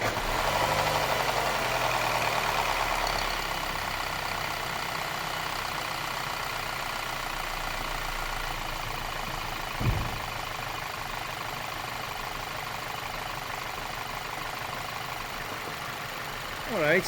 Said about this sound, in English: And then we will be start the engine